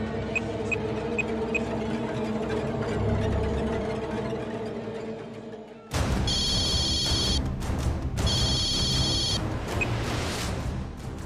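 A telephone rings on the far end of an outgoing call placed to a snake catcher, with repeated ringback bursts over a busy background of household sound from a Tamil TV serial.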